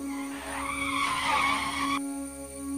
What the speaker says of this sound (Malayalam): ശക്തമായ മഴയിൽ ബസ് സഡൻ ബ്രേക്കിട്ട് ആടി ഉലഞ്ഞു നിന്നു